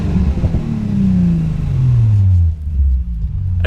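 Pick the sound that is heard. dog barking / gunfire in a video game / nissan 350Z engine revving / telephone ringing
nissan 350Z engine revving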